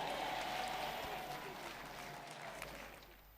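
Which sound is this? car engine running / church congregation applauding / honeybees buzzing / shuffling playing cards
church congregation applauding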